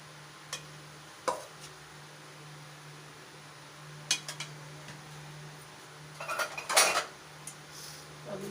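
A stick pounds salt mixed into potato and cabbage curry in a bowl while making paratha, giving sparse, faint knocks and clinks, with a short cluster of quick taps near the end.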